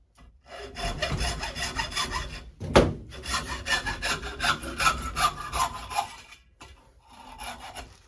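A hacksaw fitted with a metal blade cuts with rapid back-and-forth strokes, close and fairly loud, with one sharp knock partway through and a short pause near the end; no one speaks.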